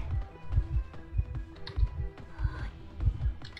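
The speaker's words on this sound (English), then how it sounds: "I'm typing as fast as my little cat paws can tap on the cipher." Rapid tapping on a cipher machine in Identity V: quick, regular clusters of light clicks and thumps, close and steady, repeating without pause.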